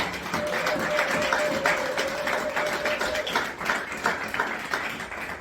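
A church congregation applauds together, a dense, sustained wash of clapping that runs steadily throughout, with a held musical tone sounding beneath it for much of the time.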